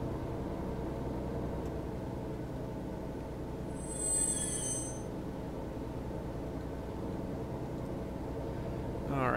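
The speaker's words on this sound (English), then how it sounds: "Need to back up our locomotive again." A locomotive backs up in the Train Mechanic Simulator video game, a steady rumbling rail drone with a brief high squeal of wheels midway, moderately loud and continuous.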